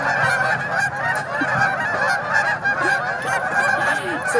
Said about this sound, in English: So the duckies and the geese are leaving, yes.